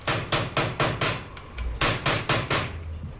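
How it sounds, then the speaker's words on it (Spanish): A silversmith's hammer strikes a chisel on the outer face of a metal plate, about ten sharp, evenly spaced metallic blows with a brief pause midway, close and loud. "Se realiza en la cara externa con martillo y cincel"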